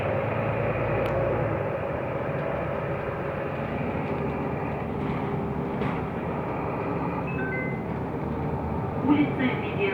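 Inside a Mercedes-Benz Türk O345 Conecto low-floor city bus on route 1 in Moscow, a continuous low engine and road rumble carries on with rattles and faint interior noises, growing slightly busier near the end.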